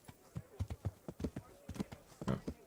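Horse hooves clip-clop in Kingdom Come: Deliverance, a steady run of close, distinct hoof strikes landing in an uneven rhythm, with speech heard over them.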